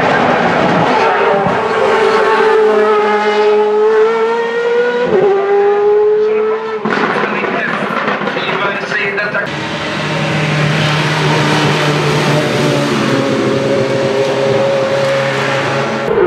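Ferrari F355 race car with a Zytek V8 at a hillclimb, engine screaming loudly up and down through gear changes, close and prominent, with announcer-style talk running over it.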